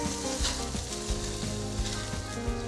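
Burgers sizzle on a grill in a dense, continuous crackle with a low rumbling undertone and a few soft thumps.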